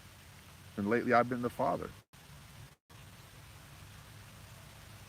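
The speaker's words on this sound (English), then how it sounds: "It's raining, guys." Steady rain falling outside at a homestead, a soft continuous patter in the background while someone speaks briefly over it.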